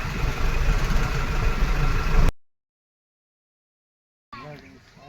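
A vehicle engine idles with a steady, loud low rumble for about two seconds, then cuts to silence; afterward faint voices talk over a quieter background.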